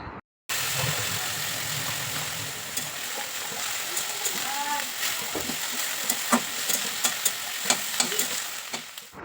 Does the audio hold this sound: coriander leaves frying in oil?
yes